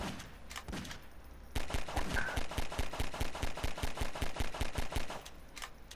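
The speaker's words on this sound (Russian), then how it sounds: "как же все-таки звуки стрельбы громкие" Rapid automatic gunfire in Garry's Mod Flood, a long burst of evenly spaced sharp shots after a few brief single bursts, loud and close.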